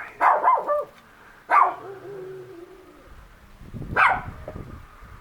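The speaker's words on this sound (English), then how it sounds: "that's our next door neighbor's dog saying hello" A next-door neighbor's dog barks outdoors at moderate distance, a quick double bark followed by two more single barks spaced a couple of seconds apart, with faint rustling and crackling in between.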